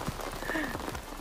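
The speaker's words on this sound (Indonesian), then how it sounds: "Baru sempet ambil video karena dari sore tuh hujan." Evening rain at a hillside campsite in Mega Mendung, Bogor, a steady dense patter on surfaces with continuous even loudness throughout.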